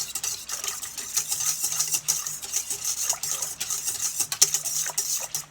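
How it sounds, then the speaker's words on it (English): A whisk stirs active dry yeast mixture in a bowl, producing a steady, soft scraping and clinking swirl with faint liquid sloshing, continuous throughout at low volume. "I'm just going to whisk it around a little bit."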